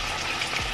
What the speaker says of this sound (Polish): to jeszcze wszystko pięknie się smaży, ale to jest ewidentnie za gorące